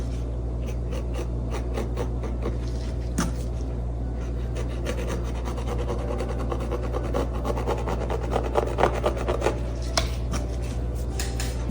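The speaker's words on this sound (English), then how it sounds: "I don't know if you can hear me scrubbing that in" Steady rough scrubbing and rubbing of a brush working acrylic paint onto canvas, continuous and close, with a low constant hum underneath and no talking.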